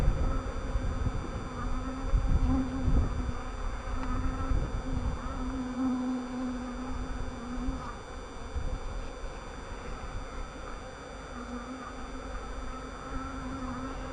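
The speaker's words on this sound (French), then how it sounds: "Là, il y a un frelon dans la bouteille avec une abeille." A hornet and a honeybee trapped together inside a bottle at an apiary buzz continuously, a close, fairly faint insect drone that wavers in pitch, with no talking.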